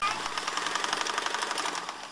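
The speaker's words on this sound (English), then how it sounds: "Sew on to other part of hat." A sewing machine stitches together fabric pieces of a shark fin hat with a fast, steady, rhythmic mechanical chatter, close and alone.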